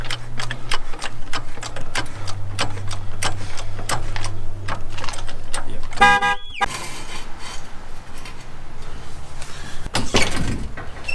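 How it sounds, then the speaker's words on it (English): A car jack ratchets in quick repeated clicks while a Nissan Skyline is raised for front differential work, close and steady, with a brief metallic clank and squeal midway before the clicking resumes. "we're jacking up the Skyline, ready to shim the front sidewards diff"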